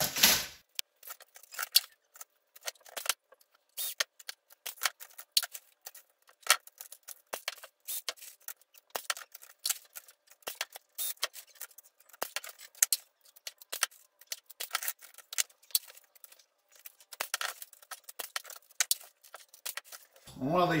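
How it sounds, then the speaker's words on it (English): Clecos are pulled out and rivets dropped into an aluminum wing rib for a Hummel Ultracruiser, making a scattered series of sharp metallic clicks and light clinks, close and fairly quiet, with short pauses between them. "So now we'll start pulling clecos out and dropping rivets in."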